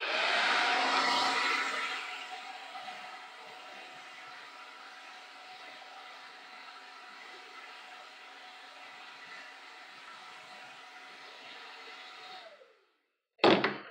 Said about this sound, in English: I'm going to run first the hairdryer over it for 5 seconds and show you what that looks like